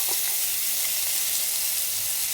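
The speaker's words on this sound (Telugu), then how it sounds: "మూకుడు వేడి చేసి నూనె వేయాలి ఆవాలు వేడిద్దాం చక్కగా వేయించాలి" Mustard seeds and curry leaves fry in hot oil in a pan for puffed rice upma, giving a loud, steady, close sizzle that fills the whole moment with no talking.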